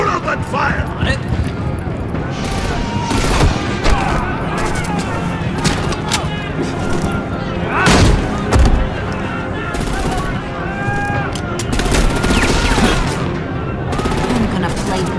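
Gunfire crackles through a shootout in the Batman Telltale Series, rapid bursts and single loud shots repeating across the scene with heavy booming hits, while voices shout over the firing.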